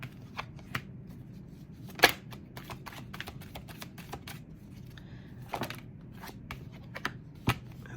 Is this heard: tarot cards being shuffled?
yes